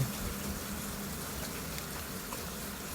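Rain falls outdoors on a mild December night, making a faint, steady hiss of drops that holds evenly throughout with no voices.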